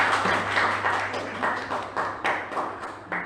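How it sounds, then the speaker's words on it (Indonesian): A small group claps at a school teachers' gathering on positive culture, the claps uneven and fairly close, with a steady low hum underneath. "Tepuk tangan untuk Ibu Sumatri."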